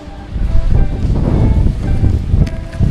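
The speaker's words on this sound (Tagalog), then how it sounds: "Dahil na rin sa lakas ng hangin," Strong wind blowing outdoors around a vegetable garden with tomato and papaya plants, a steady loud rush with gusty buffeting against the microphone and no talking.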